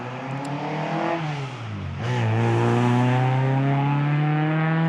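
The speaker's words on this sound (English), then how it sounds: "That sounded like a Mark II Ford Escort or something along those lines." Car engine resembling a Mark II Ford Escort, heard out in the middle of nowhere: a steady hum that rises in pitch as it accelerates, then holds a loud sustained drone, with no talking.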